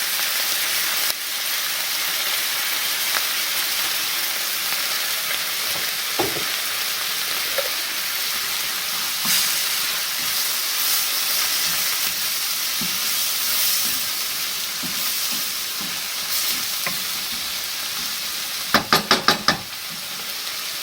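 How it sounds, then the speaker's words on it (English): Crushed garlic, about three cloves, sizzles steadily in a hot pan as black beans are cooked. Occasional stirring knocks and a brief burst of clattering come near the end. "And I'm going to add my crushed garlic."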